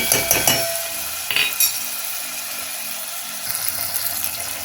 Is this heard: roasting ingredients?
yes